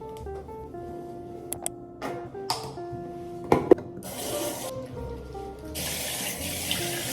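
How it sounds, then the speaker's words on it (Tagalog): Water runs from a shower or tap in a bathroom, a steady hiss that swells in two broad bursts among a few small clatters and knocks, fairly close and with no talk. "I'm gonna take a shower now."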